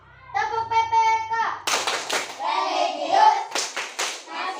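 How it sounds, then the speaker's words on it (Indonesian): Children in an Indonesian classroom chant and clap the rhythmic PPK clap together, a burst of quick unison claps mixed with young voices speaking in chorus, close and fairly loud. "Sekarang kita lanjut tepuk PPK."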